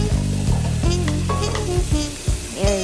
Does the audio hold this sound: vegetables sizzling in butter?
yes